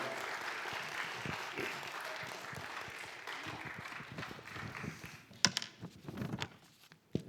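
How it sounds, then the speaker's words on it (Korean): A church camp audience claps to welcome a pastor to the stage; dense applause fills the room at first, then thins into scattered, fading claps with a few sharper individual hits near the end. "우리 박수로 한번 환영 한번 하십시다."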